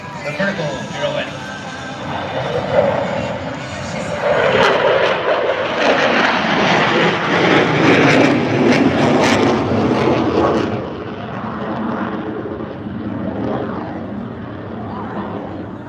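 A Super Hornet jet roars past during airshow manoeuvres, building from a distant rumble to a loud, broad swell that fades again, while a commentator talks over it.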